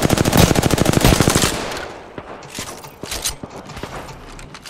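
Automatic weapon fire in Apex Legends: a rapid, loud burst of shots for about a second and a half, followed by scattered, fainter single shots and mechanical clicks.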